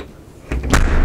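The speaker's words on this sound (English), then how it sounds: "They've got the slam latch bus system with an integrated catch into the frame." The heavy door of a 2014 Heartland Bighorn 3610RE RV slams shut nearby onto its slam latch with a solid thud and a sharp latching click, followed by a brief rattling resonance.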